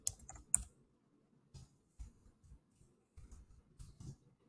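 Soft, scattered keystrokes on a computer keyboard as VBA code is typed, short clusters of clicks separated by brief pauses, quiet and close with no voice over them.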